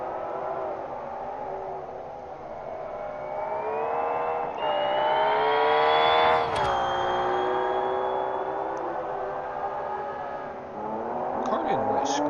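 Race car engine on track at Sepang, a sustained smooth whine rising and falling in pitch as it accelerates and shifts, fairly loud and steady, with a brief sharp burst midway and no speech.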